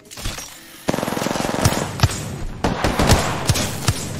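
Gunfire in the battle-royale shooter Apex Legends: a fast automatic burst followed by several loud, separate shots and impacts, close and dense, with no talk over it.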